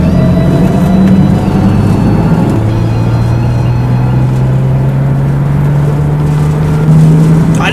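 A Honda Shadow 1100 motorcycle accelerates, its loud, close engine drone climbing steadily in pitch over a continuous rumble of road noise.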